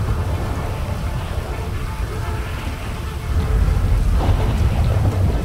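Steady rain hiss with a deep thunder rumble swelling louder near the end, from a storm in a GTA survival mod video game; no talking.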